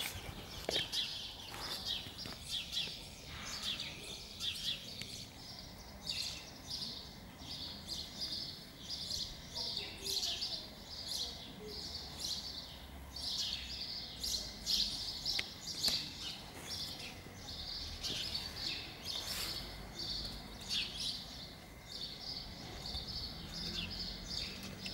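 House sparrows and common swifts squabble over a nest cavity, giving dense, shrill chirps and high screeching calls that repeat almost continuously for the whole stretch over a faint background hum.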